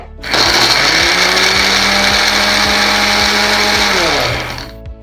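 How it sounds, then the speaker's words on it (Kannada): A mixer grinder whirs at full speed grinding nut powder and dates into a thick paste, a loud steady motor drone that starts abruptly, runs unbroken for about four seconds, then winds down. "ಇದನ್ನು ಚೆನ್ನಾಗಿ ಈ ಮಿಶ್ರಣನ ಗ್ರೈಂಡ್ ಮಾಡ್ಕೋಬೇಕಾಗತ್ತೆ"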